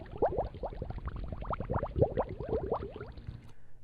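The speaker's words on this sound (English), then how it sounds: "One is called bubbles, and I can play that if I'd like to." The built-in bubbles sound effect of the Scratch fish sprite plays as a rapid, steady stream of gurgling bubble pops lasting a few seconds, clear and alone.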